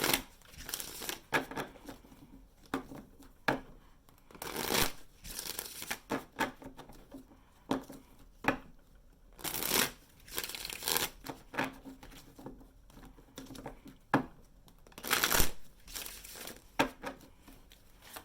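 Tarot advice cards being shuffled by hand. The riffling and slapping come in repeated short bursts with quiet gaps between them, close and fairly soft, and no one speaks.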